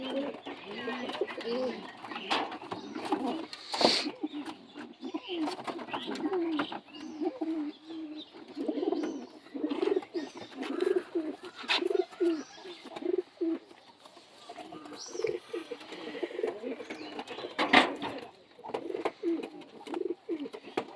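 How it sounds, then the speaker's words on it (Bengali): Jacobin pigeons coo steadily in a loft, soft repeated throaty coos overlapping close by over about twenty seconds, with occasional wing flutters and faint background noise. "নেক্সট এক পেয়ার জ্যাকের ভিতরে দেখাবো, অনেকে জাক পায়রা বলে চেনে, হুমারের ভিতরে।"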